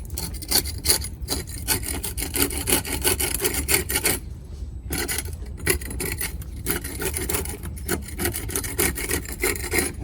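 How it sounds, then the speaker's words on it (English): Scraping out blistered, moisture-damaged stucco from a wall, a continuous harsh rasping and grinding that stays loud and close for the whole stretch, with only brief easing between strokes. "And we're just gonna scrape it out."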